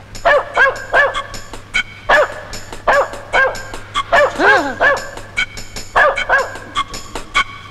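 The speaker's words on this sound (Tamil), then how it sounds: "நாய் வாயை கட்டிட்டீங்களே" A dog in a Tamil comedy film scene barks loudly and insistently, firing off rapid runs of sharp barks mixed with yips and whining notes, close up and without any talk.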